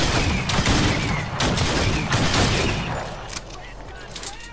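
Shotgun fire in Fortnite: heavy, booming blasts in quick bursts, loud and close, over a busy game mix with a voice talking over it.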